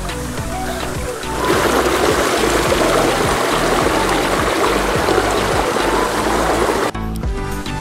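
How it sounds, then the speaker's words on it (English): Water rushes steadily at a waterfall in Mainpat, Chhattisgarh, a loud, dense roar that swells after a quieter first second and shifts abruptly near the end. "जो झरने की आवाज़ है वो ही सुनाई दे रही है"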